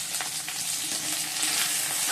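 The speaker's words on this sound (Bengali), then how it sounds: "পাবদা মাছটা ভেজে নিচ্ছি" Pabda fish frying in hot oil in a kadai, a dense continuous sizzle with faint crackles and occasional stirring, close and steady with no voices.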